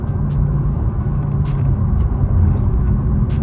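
A car with an LS engine and manual transmission drives along, its steady engine rumble and road noise loud and close, with occasional faint higher clicks and no talk.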